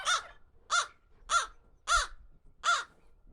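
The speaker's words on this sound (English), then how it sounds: "see if Frankie or Franklin, if this crow follows me" A crow gives five evenly spaced loud caws, close and clear, with only light background noise between the calls.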